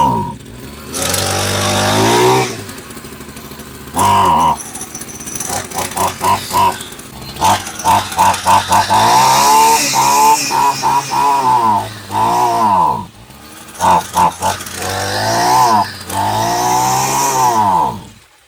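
A Champion 23cc two-stroke string trimmer engine starts up and runs loud and close, revving in uneven bursts with brief dips and a stuttering throttle, then settling into a steady buzzing idle.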